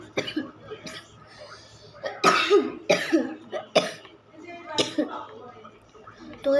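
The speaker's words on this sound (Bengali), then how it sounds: "তো অনেক ঠান্ডা লাগছে আমাদের, আমি এত কাশি।" A person with a cold coughs several times in short, loud bursts, mixed with throat clearing and speech-like sounds, close to the listener.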